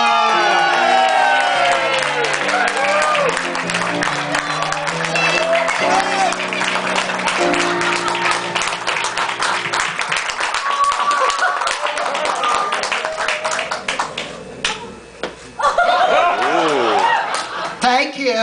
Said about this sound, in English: Thank you for that really rip-roaring, rousing round of applause